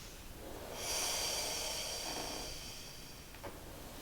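A close, airy breath drawn in during a mat exercise class, a soft broadband hiss swelling for about two seconds and then easing off, with a faint short sniff near the end and no talking.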